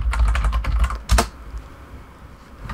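Rapid keystrokes on a computer keyboard while entering a website address during a Raspberry Pi Pi-hole DNS server setup, a dense burst of clicks followed by a sharper cluster, then quiet room tone.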